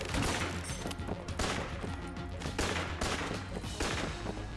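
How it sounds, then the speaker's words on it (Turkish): Nonstop bullet fire in the video game Enter the Gungeon, a dense, continuous barrage of rapid shots with crashing impacts, loud and unbroken throughout. "Durmadan bir tane mermi geliyor aralıksız bir şekilde."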